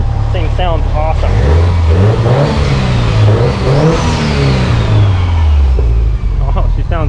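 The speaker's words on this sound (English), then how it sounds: "Listen to the turbo now. This thing sounds awesome." Grey Subaru STI fitted with a big turbo, engine revving up and down in long swelling pulls with a whooshing turbo spool over the deep exhaust note, loud and close.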